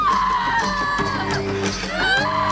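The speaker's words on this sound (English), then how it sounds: "Somebody's helping her scream." A woman screams in a werewolf movie scene, a shrill, wavering cry that rises and falls over about two and a half seconds against the film's noisy soundtrack.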